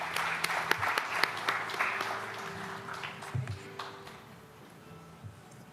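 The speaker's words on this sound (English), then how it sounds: "Please welcome with a big round of applause." A conference audience at a policy forum claps in a steady round of applause that is loud at first and then gradually thins out over several seconds.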